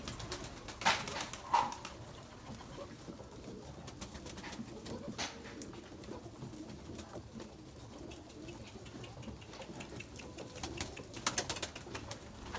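Erzurum White breeding pigeons coo softly in a loft, a few brief calls near the start over quiet rustling and a low background hum, with no one speaking.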